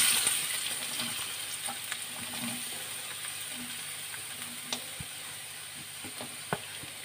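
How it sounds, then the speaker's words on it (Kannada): Onion fries in a spoonful of coconut oil, a soft steady sizzle with faint scattered clicks and pops from stirring. "1 ಸ್ಪೂನು ತೆಂಗಿನೆಣ್ಣೆ, ಅದಕ್ಕೆ ನೀರುಳ್ಳಿ ಹಾಕ್ಕೊಳ್ತಿದ್ದೇನೆ."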